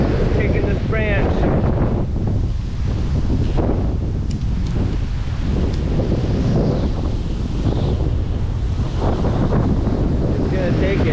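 Strong gusts roar through the top of a tall spruce tree, buffeting the microphone with continuous loud rushing and rustling branches throughout.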